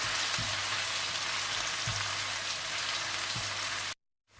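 Onions sizzle steadily in a hot pan, a soft continuous crackle with a few faint knocks, ending abruptly in silence.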